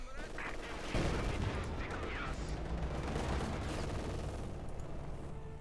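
A field gun and other gunfire in the strategy game Company of Heroes 2, dense rumbling battle noise with booms and rattling shots, continuous and fairly loud, with a voice faintly under it.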